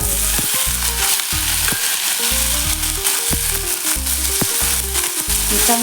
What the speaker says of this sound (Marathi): मिरची आपली चांगली परतली की त्यामध्ये आपण ह्या चिरून ठेवलेल्या भोपळ्याच्या फोडी घालणार